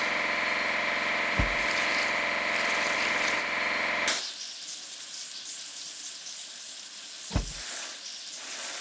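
A steady loud hiss of water spraying to wash a cement mixer runs for a few seconds, then cuts off, leaving a softer splashing trickle with a couple of brief knocks; animated.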